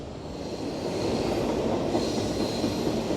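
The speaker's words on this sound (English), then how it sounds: "Trains." A train rumbles past steadily in Kansas City, a dense low roar with faint rattling that swells slightly and holds.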